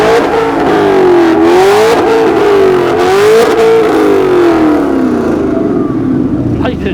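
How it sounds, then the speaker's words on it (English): Supercars of around 777 horsepower in a rev-off, revving hard and repeatedly in loud rising and falling waves close by, then settling toward idle, with voices faintly underneath. "I think we should have a Megatron Bumblebee rev off"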